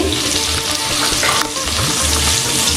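Spices and turmeric powder fry in hot oil for a Bengali fish curry, a loud, dense, continuous sizzle with spatula scrapes against the pan, close up and without any voices.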